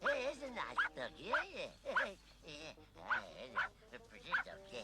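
A dog barks and yips repeatedly in an uneven rhythm, close and moderately loud, with whimpering tones and other sounds mixed in behind.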